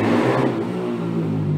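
A motorcycle engine revs loudly and close by as it passes, its whining pitch sliding downward over a second and a half with no voices.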